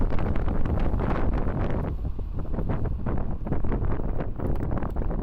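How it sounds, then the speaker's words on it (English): Strong wind buffets the microphone while riding an Eahora Tiger Max e-scooter at speed, a loud, continuous roaring rumble with gusty surges and no talk. "But the wind is crazy."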